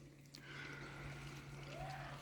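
Water circulating through a backyard aquaponics pond system with a sump tank and vortex filter, a soft continuous trickle and pouring flow, faint and steady with a low hum beneath it.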